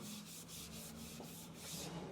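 Steady hand sanding of a wooden cutting board, with soft rhythmic rubbing strokes repeating about every quarter second, close and quiet, no voices.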